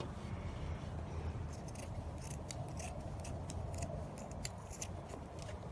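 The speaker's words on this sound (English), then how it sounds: "I'm going to cut with the big scissors here this time" Large scissors cutting through fabric at the shoulder seams, a run of crisp repeated snipping strokes close up over faint background hiss, no speech.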